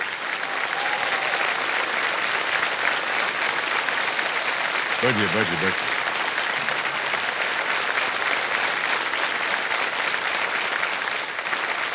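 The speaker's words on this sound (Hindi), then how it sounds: "तालियां बज जाए इनके लिए।" Studio audience applause on a televised quiz show set, steady and loud throughout as a host speaks over it, welcoming a contestant to the hot seat.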